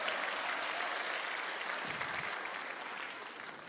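Canned applause played over a forum's sound system, a continuous wash of crowd clapping that holds steady and then fades slightly toward the end, with no talking over it.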